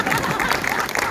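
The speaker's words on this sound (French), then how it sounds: "applaudissez, vous pouvez" A brief burst of audience applause at a live juggling show, dense and fairly loud, with a crowd murmur blended in.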